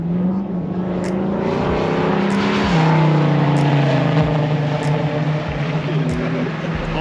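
A Ford Mustang works through an autocross course, its engine droning steadily with a rising and falling pitch as it accelerates and brakes between cones, loud and continuous throughout.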